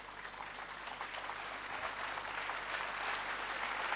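A large audience at a school annual day dance performance applauds steadily, a dense wash of clapping heard from a distance with no talk over it, building slightly toward the end.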